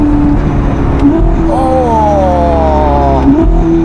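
Novitec-tuned Ferrari SF90 Spider with 1109 hp, engine on throttle: a steady loud drone whose pitch swells upward for a couple of seconds, then settles again under a constant low rumble.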